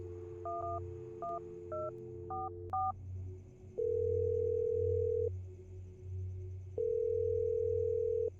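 A phone interface in a video game plays a quick run of about five keypad beeps, then two long, steady tones separated by a short gap, all crisp and close.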